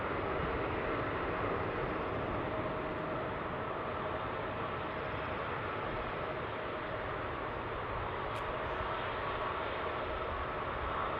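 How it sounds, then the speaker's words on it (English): Jet airliner thrust reversers roaring after touchdown at Seattle-Tacoma airport, a steady, distant broadband rush that holds at an even level throughout, with no talking. "First reversers just kicked in."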